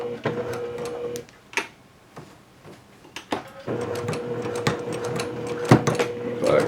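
A sewing machine stitches along a seam of a courier bag, with a steady close mechanical whirr in two runs broken by a pause filled with clicks and handling knocks.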